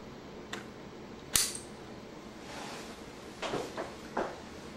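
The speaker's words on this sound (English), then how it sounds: "Now I will connect a 1 GHz memory to our SODIMM 1 socket." A 1 GHz memory module is pushed into a SODIMM socket on a DE4 board, giving a few sharp plastic clicks and snaps, one loud click then softer shuffling clacks, close up and without talk.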